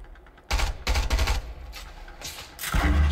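Rapid bursts of automatic gunfire from the Fortnite Battle Royale video game crack out loud and close, in three or four dense volleys with brief gaps, with no talking over them.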